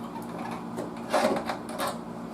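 Screws being worked out of the back panel of an old Fada radio, giving short close-up mechanical squeaks and rattles with a brief louder burst midway.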